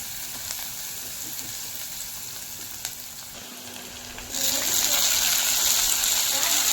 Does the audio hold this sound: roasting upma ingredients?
yes